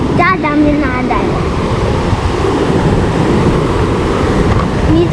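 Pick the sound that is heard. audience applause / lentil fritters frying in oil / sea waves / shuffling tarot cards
sea waves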